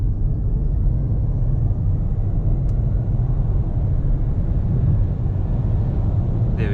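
A 2018 Nissan Leaf NISMO electric car accelerating from a stop at half throttle, heard as a steady low road and motor rumble that stays even and loud throughout, with no voices.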